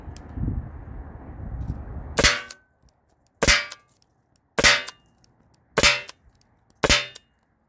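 Byrna SD projectiles striking an aluminum panel, five sharp metallic cracks spaced about a second apart, each loud and close with a brief ring, after a short stretch of hissing noise.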